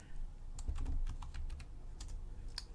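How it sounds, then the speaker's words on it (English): Fingers tap a computer keyboard in quick, uneven bursts of light clicks, close but soft, over a low steady hum with no talking. "I can type it also"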